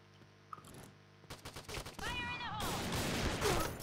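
Enemy gunfire in the PointBlank shooter game: scattered sharp shots give way to a dense, sustained burst of rapid fire in the second half, with a brief voice in the middle.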